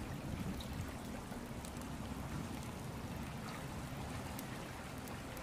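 Flowing water in the video game The Forgotten City, a faint, continuous rushing stream with a soft trickling texture and no talk.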